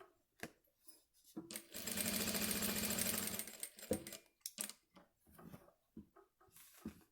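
Sewing machine stitching right along the very edge of a fabric notebook cover, a steady mechanical whir lasting about two seconds, framed by brief handling clicks and shorter bursts of stitching.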